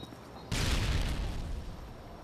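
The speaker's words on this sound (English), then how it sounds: "I heard nade go off." A grenade goes off in a first-person shooter game: a sudden loud, broad burst that decays into a rumbling, crackling tail over about a second and a half, with no talk over it.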